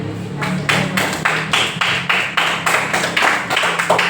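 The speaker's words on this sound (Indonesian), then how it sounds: "Tepuk tangan" Schoolchildren in a primary classroom clap in unison, a loud, regular rhythmic pattern of sharp group claps repeating roughly every half second, close and unaccompanied.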